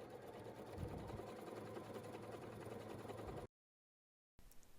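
A sewing machine stitches fabric pieces for a bag with three inner pockets together along the bottom edge, a fast, even whirring drone up close that cuts off abruptly, followed by a brief silence and a short resumption.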